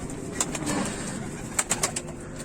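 Soft pigeon coos and a few sharp chirps over a steady low murmur inside a busy loft.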